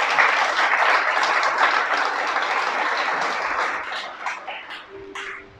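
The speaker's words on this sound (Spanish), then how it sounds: "¿Qué tal si le damos un aplauso al Creador?" Audience applause at a religious gathering, a dense steady clapping that fills the room and slowly thins out near the end, with faint tones and voices creeping in at the tail.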